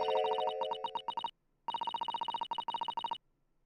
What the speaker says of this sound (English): A meaningless series of 2 different tones.